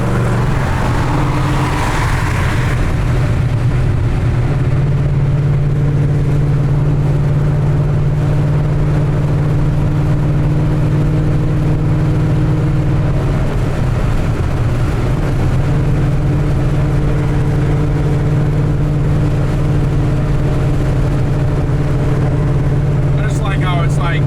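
A roughly 800 hp 2007 Shelby GT500 drones steadily at highway speed from inside the cabin, a deep, constant low engine hum running the whole time with people talking over it.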